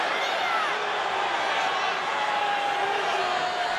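A packed rugby stadium crowd roars at the 2009 France v New Zealand match, a dense and steady wall of noise that holds at high volume throughout.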